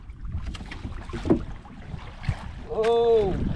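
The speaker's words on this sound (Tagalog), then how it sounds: "magpapandar si Kabugoy ng motor at nahihirapan mamandaw" A small boat motor is pulled to start and struggles, sputtering briefly before catching into a rising whine near the end, heard outdoors with wind noise and voices nearby.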